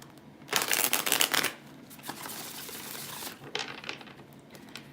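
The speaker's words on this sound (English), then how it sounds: "I'm going to finish shuffling. Cut my deck." A deck of tarot cards being shuffled by hand: a loud, dense riffle of crisp card flutters, then quieter scattered slides and taps, with a second softer burst of shuffling later.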